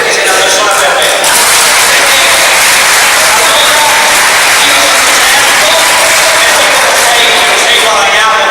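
Audience at a political meeting on Veneto independence in Sossano applauds with steady, dense clapping that fills the whole stretch at close, loud level, with no voices over it.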